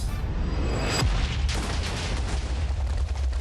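A Minecraft explosion blasting a copper golem: one sudden loud boom near the middle, then a rumbling tail and steady low game background.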